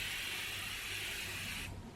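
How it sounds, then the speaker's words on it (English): Close, steady hiss of a Curel Intensive Moisture Care Deep Moisture face spray misting continuously for well over a second, then cutting off, with no talking. "my very first step is always to spray my face"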